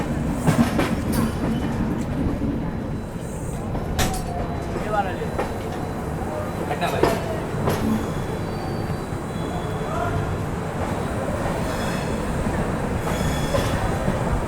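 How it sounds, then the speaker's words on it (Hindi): The Duronto Express rolls into Rani Kamlapati railway station with a steady rumble of wheels, rhythmic clicks over rail joints and occasional squeals, loud and close throughout. "अभी देखो रानी कमलापति रेलवे स्टेशन एंटर कर रही है अपनी दुरंतो एक्सप्रेस"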